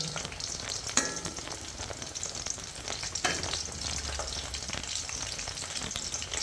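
Steady crackling and hissing of chicken kofta frying in hot oil over a low flame, continuous and close, with a couple of sharper pops and no voices.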